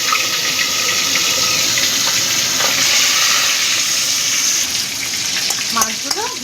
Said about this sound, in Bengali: তেলটা ভালো মতো গরম হয়ে গেছে, এবার আমি মাছগুলো ভেজে নেব।